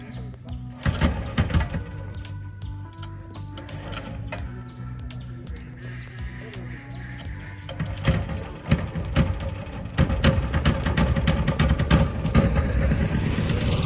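A large motorized country boat's engine drones nearby on the Malarikkal wetlands in Kottayam, Kerala, with a throbbing, mechanical hum and rattling knocks that grow louder and busier toward the end.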